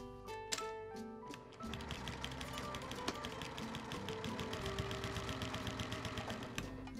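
A sewing machine stitches a half-inch seam along the edge of a flannel rag quilt, running in a fast, even mechanical patter after a few slow starting stitches, close and alone with no talk.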